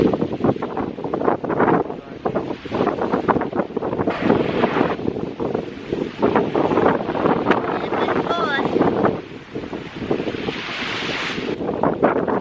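Strong wind buffets the microphone at a Key West beach, a steady roaring rumble with gusts, mixed with surf and a person talking over it throughout.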